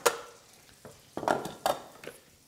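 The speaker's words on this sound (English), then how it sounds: "And now we can get our curry sauce out of the blender" Curry sauce for chip-shop style fish and chips being scraped out of a blender into a pan, a few soft clinks and scrapes with quiet pauses between, close and fairly faint.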